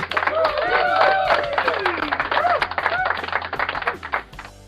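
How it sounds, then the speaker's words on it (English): An audience applauds at a Limeira regional news presentation, with dense, steady clapping that carries on for several seconds while voices rise over it, then thins out at the end. "Let's raise our hands and clap."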